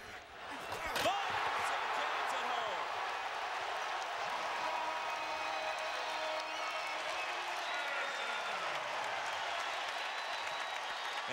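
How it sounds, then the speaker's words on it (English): Basketball arena crowd at Thompson-Boling Arena roaring and applauding continuously through a Tennessee vs South Carolina game, a dense sustained wall of cheering after a sharp impact near the start, steady and loud throughout. "And the crowd comes to life at Thompson Bowling Arena"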